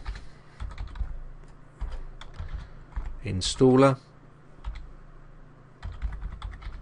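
Computer keyboard typing during Windows 7 installation-disc setup, a short burst of quick key clicks mixed with faint scattered taps, with a person talking around it.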